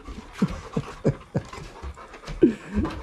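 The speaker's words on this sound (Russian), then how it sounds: "Хороший пёс. Добрый пёс просто." A large, friendly dog pants in quick rhythmic bursts, close and moderately loud, with soft scratching or movement between breaths.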